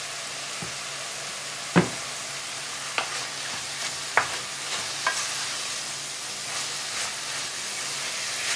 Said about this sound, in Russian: Тоже обжариваем достаточно быстро.